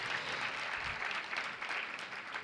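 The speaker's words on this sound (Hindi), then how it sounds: "अब ताली तो ऐसे बजा रहे हैं जैसे नई पिच्छी पाली हो" An audience at a Jain religious discourse claps in steady, dense applause that fills the whole moment without a break.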